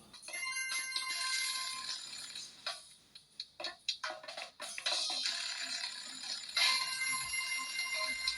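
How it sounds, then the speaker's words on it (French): Jetpack Joyride mobile game sounds play on an Honor X7 phone: bright, chiming electronic effects and jingles in bursts, with quieter rhythmic pulses in the middle, fairly faint and without speech. "on termine avec Jetpack Joyride"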